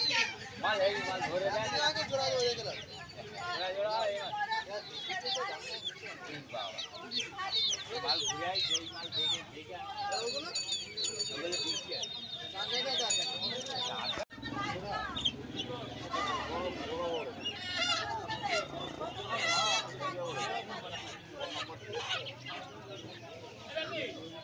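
Chickens, including Polish cap hens, at the busy Uluberia hen market, with many close clucks and squawks and a crow over a crowded background, while someone talks over them throughout.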